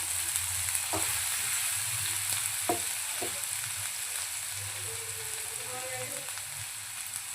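Onion with finely chopped ginger and garlic fries in a pan with a steady, soft sizzle. A few stirring clicks break through now and then, with no voices.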